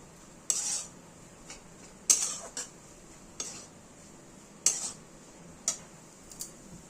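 Grated mawa being fried and stirred on low flame in a pan for Rajasthani mawa kachori, heard as spaced metallic spoon taps and scrapes against the pan, about five clear clicks over a quiet background.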